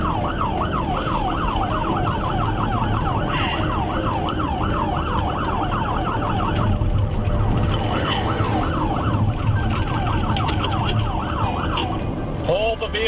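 A police car siren wails, cycling up and down steadily for several seconds, loud and close, over road noise, then cuts off near the end.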